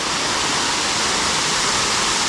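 Nakovalnya waterfall in the Mishoko gorge of Adygea roars as a dense, unbroken rush of falling water, loud and close with no other sounds.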